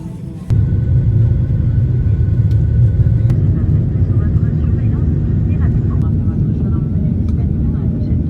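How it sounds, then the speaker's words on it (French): Steady low engine rumble fills an airplane cabin before takeoff, loud and continuous after a brief quieter start, with a voice talking over it. "Il va bientôt décoller."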